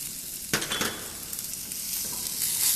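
Carrots and capsicum hit a hot pan and sizzle loudly, with scraping stir strokes at the start and a continuous frying hiss that builds toward the end.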